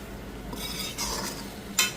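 Prawn, potato and taro sauté in a pan with a low sizzle and a few short scraping strokes of a utensil, ending in a sharper clink against the pan; quiet and close, no talking.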